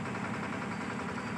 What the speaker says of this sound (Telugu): ట్రాక్టర్ వచ్చేసి కంకర వేసేస్తుంది, ప్లస్ ఇసుక వేసేస్తుంది